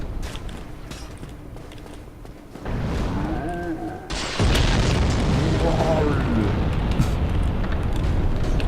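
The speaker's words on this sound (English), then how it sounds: "that bastard over there is chucking giant firebombs at us" A giant firebomb hurled by an enemy in Dark Souls explodes with a heavy, close boom midway through, followed by a sustained roaring rumble of fire over the game's ambient noise, with a voice talking.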